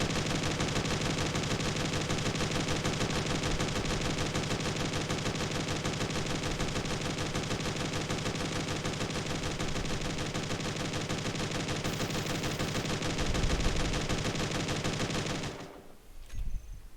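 Guns in Space Engineers fire continuously in a rapid, unbroken automatic stream, loud and dense for most of the stretch, then cut off abruptly near the end.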